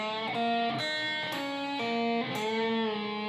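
Electric guitar plays a blues riff slowly and alone: four distinct picked attacks, each ringing into sustained bent notes and a closing trill, close and clear at moderate volume.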